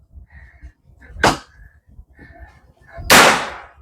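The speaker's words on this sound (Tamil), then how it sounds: "அதுக்குள்ள நெருப்பு குச்சி போட்டு வெடிக்க வைக்கிறேன்" Two sharp, loud firecracker bangs about two seconds apart, each a broadband crack over a quiet background with faint voices and tonal noise between.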